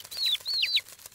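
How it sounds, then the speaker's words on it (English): Cartoon baby birds cheep hungrily in a nest, a couple of quick high-pitched chirping calls in succession, clear and close with no talk over them. "Those baby birds look hungry."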